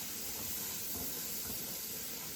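Onions and carrots sizzle in butter in a very hot pan, a steady close hiss of frying that runs evenly throughout with no talking.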